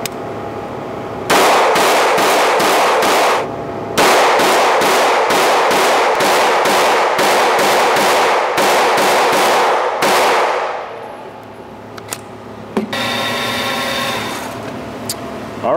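A short-barrel rifle fired in rapid succession at a shooting range, loud close shots in fast, evenly spaced strings with brief gaps between volleys, then ringing echo and faint clatter at the end.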